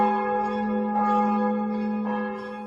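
A single church bell tolls with a pure, sustained ringing tone, its harmonics humming steadily and swelling gently with each fresh strike, heard close and alone with no voices.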